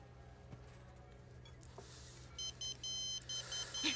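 Quiet room tone, then a phone ringing in a repeated series of short electronic beeps, faint and somewhat distant, with no speech.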